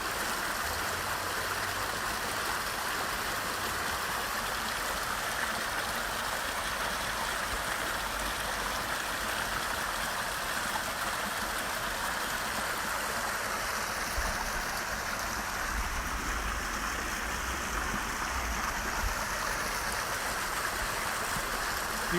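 Spring water flows steadily from the source openings at İvriz, a continuous close rushing and trickling with no pauses and no voices.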